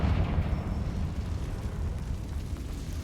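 Confringo fire spell explosion in Hogwarts Legacy, a deep rumbling boom that starts loud and slowly fades into a low roar over a few seconds, with no talk.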